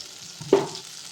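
Thin-sliced eggplant sautéing in a pan, a soft steady sizzle broken by one brief stirring scrape, close and fairly quiet, no voices.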